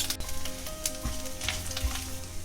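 Finely chopped ginger sizzles and crackles in hot tempering oil with curry leaves and asafoetida, a steady close frying hiss broken by a few stirring clinks.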